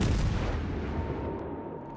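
Warship cruiser guns fire at the enemy ship Kiev in a naval video game: a single heavy, loud boom with a rumbling low tail that fades over about two seconds, no voices.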